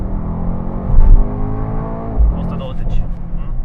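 A Mercedes-AMG GT63s accelerating hard in a 60 to 120 km/h sprint, engine note rising loud and close with a brief gear-change break before climbing again.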